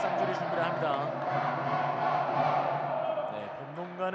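A university volleyball match crowd roaring and cheering in an indoor gym, a sustained loud wash of voices filling the hall, with a commentator talking over it throughout.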